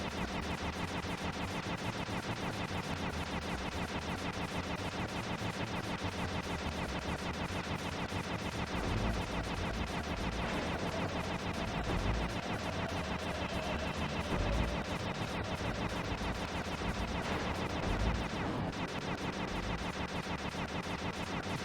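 Bouncing shots fired in the video game Sly 2: Band of Thieves, a steady stream of gunfire-like bursts packed into dense, continuous game sound with a few sharper hits standing out along the way.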